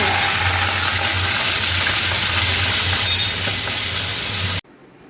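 Salted fish frying in oil in a wok, giving a steady, dense sizzle that holds evenly for several seconds with a low hum underneath, then cuts off abruptly near the end.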